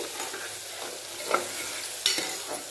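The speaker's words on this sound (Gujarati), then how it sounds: "ડુંગળીને આપણે એકાદ મિનિટ માટે તેલની અંદર સાતરવા દેવાની છે" Chopped onion sautéing in hot oil in a pan for chana dal, a steady bright sizzle with stirring scrapes and a couple of sharper pops, close and alone with no talk.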